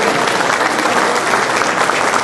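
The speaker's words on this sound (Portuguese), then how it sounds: "Dessem uma salva de palmas à equipe da Proveitoria de Planejamento." An event audience applauds a planning department team with loud, dense, continuous clapping that holds steady throughout, with no voices over it.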